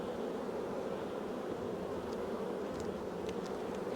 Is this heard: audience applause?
no